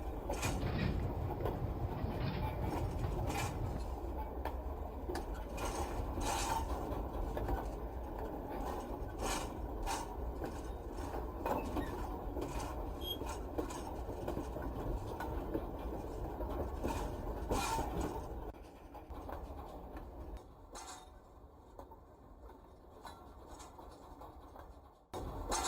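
A model railroad train runs with a steady mechanical hum and faint clicking rhythm, then quiets as it couples to the rest of the train. A few soft clunks sound near the end.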